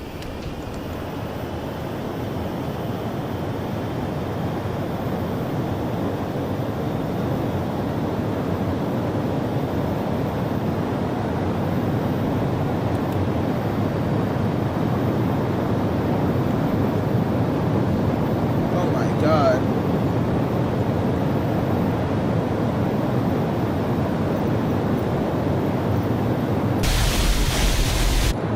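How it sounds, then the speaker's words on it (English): A B-1 Lancer's jet engines roar at full afterburner in the flight sim MSFS, a steady, loud, broadband rush that holds unbroken throughout while a voice exclaims briefly over it. "Full afterburners."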